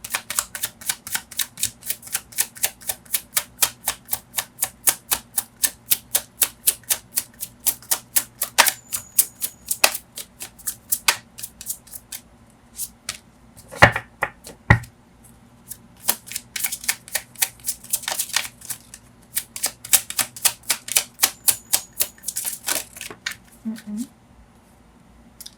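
Tarot cards are shuffled and drawn in a long run of rapid, crisp riffling clicks, close to the microphone, with a few brief pauses and a short spoken remark along the way.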